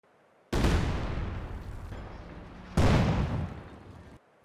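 M8 Scott artillery firing in Company of Heroes 2, two loud booming shots about two seconds apart, each with a long rumbling decay and no talk.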